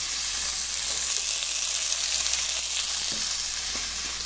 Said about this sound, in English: So all these stems are going to go into this garlic with grapeseed oil.